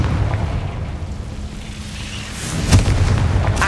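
Confringo blasting spell explosion in Hogwarts Legacy, a rumbling boom with a sharp crack near the end over low background noise.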